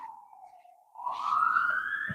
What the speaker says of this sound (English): That's what that siren's for.